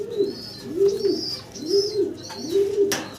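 Soft, throaty homer pigeon coos repeat in a steady rolling rhythm, four rounds close by, with faint higher chirps from other birds in the background.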